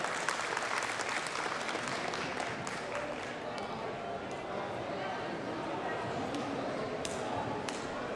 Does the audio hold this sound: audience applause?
yes